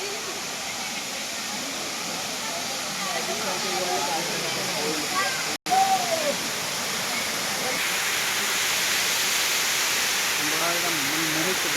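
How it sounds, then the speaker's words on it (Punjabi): A waterfall at a rock garden crowded with visiting students pours out a steady, broadband rush of water that fills the whole clip, with voices talking over it throughout. "ਝਰਨੇ"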